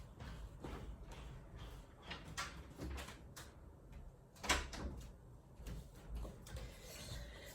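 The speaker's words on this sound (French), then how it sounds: "je vais fermer la porte" An indoor door is pushed shut in a room with noise from neighbours' celebration, giving a soft thump and latch click partway through, amid low background clatter and murmur.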